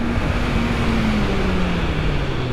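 A 2025 QJ Motor SRK 800RR motorcycle accelerating, its steady engine tone sliding in pitch under heavy wind rush, loud and constant throughout.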